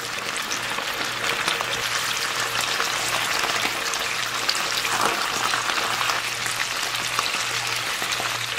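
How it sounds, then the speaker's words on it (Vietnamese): Mackerel scad fries in hot pork fat in a pan, giving a dense, even sizzle and crackle that runs steadily throughout, close and moderately loud, with a low hum beneath. "Sau đó thì mình cho cá vào chiên."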